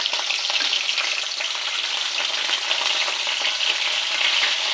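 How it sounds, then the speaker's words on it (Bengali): Oil sizzles and crackles loudly and continuously as fish fries, with no voices. "এগুলো একটু বাকি আছে ভাজবো"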